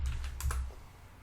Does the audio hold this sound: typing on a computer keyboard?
yes